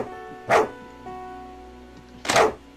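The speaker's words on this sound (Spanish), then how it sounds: "No se puede cruzar ese maldito perro." Dog barking in an RPG video game, two sharp barks about two seconds apart over a steady low tonal background.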